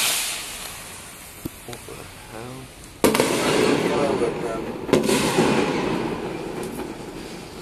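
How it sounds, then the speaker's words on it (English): Fireworks set off in a courtyard, a sharp crack followed by a second loud burst and a long crackling, rumbling tail, with a man briefly exclaiming before the blasts. "Catch man in the courtyard lighting his fireworks."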